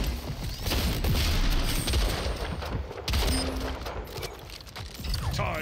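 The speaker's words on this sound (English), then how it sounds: "Railgun." Weapon fire in the SplitGate 2 shooter game, including a railgun, as a loud, dense run of sharp gunshot cracks and booms, several rapid bursts layered with faint voices.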